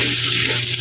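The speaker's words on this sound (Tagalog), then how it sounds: "Haluin lang po natin." Fried rice with malunggay leaves sizzles loudly in a pan as it is stirred, a dense close-up crackling hiss lasting under a second.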